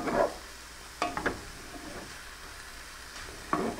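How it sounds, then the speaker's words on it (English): Radicchio softening in a pan over medium heat, a low steady sizzle with a few sharp scrapes and knocks of stirring spaced through it, fairly quiet and with no voices. "we're really going to let this go for a couple minutes because I want this radicchio to soften up and cook down"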